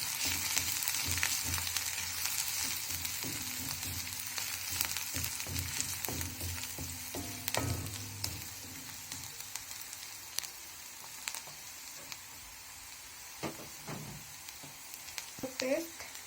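Garlic and ginger fry in a hot pan for vegetable Hakka noodles, giving a soft, continuous sizzle with scattered clinks and scrapes of stirring, fairly quiet and close.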